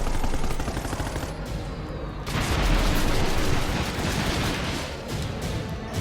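Dense, continuous gunfire in the video game Project Nimbus, with rapid automatic bursts, loud and sustained throughout with brief shifts in intensity.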